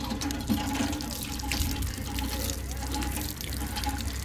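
Water gushes steadily from a village hand pump, a continuous splashing flow at close range with faint voices in the background.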